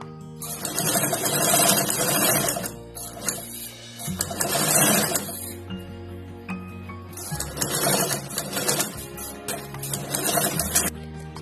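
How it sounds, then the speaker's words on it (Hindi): Sewing machine stitching fabric panels for a small ladies' designer party bag, running in loud sustained bursts of steady mechanical whirring separated by brief pauses. "इस मिडिल मार्क से इस मिडिल मार्क को इस तरह रखकर इस पे हम सिलाई कर देंगे"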